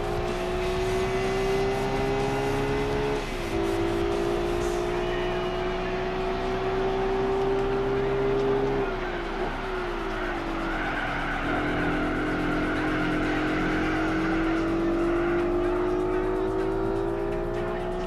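A race car laps the Motegi circuit in Gran Turismo 4, its engine whining steadily with pitch climbing and dropping through gear shifts, accompanied by tyre squeal through corners, close and continuous.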